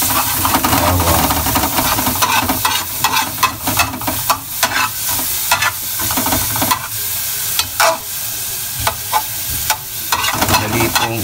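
Garlic frying in a pan for chicken sinigang, with steady close sizzling and hissing broken by repeated stirring scrapes, and no talking.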